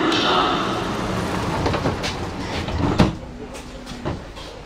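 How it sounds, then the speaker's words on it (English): Doors on a Berlin U-Bahn subway train sliding open at a station, heard as a short series of clunks and thumps over steady train and platform noise, with a sharper knock near the end. "Hold the button down until they open the doors."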